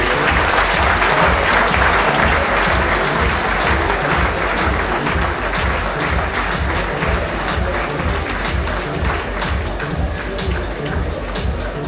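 Sustained applause from a large audience at a corporate anniversary celebration with Bollywood celebrities, dense steady clapping filling the whole stretch with a murmur of crowd noise beneath.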